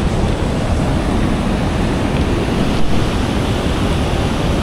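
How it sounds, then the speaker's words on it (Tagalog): Water from a mountain river pours down like a curtain at a waterfall in Dipalo River Park, a loud, constant close-up roar of rushing water with no break. "bumabagsak yung tubig parang kurtina habang bumabagsak yung tubig sa ibaba"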